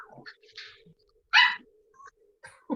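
A dog lets out a few short, sharp barks and yips at close range, with one louder bark standing out among quieter sounds.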